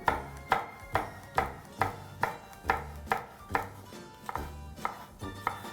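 A green pepper sliced into rings on a cutting board for a bean stew, about a dozen crisp knife strokes in an even rhythm, close and clear with no talking.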